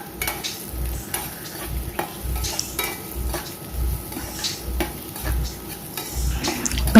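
Beans and vegetables sautéing in a pan for egg fried rice, with a soft sizzle and rhythmic scraping and stirring strokes of a utensil against the pan, close and steady.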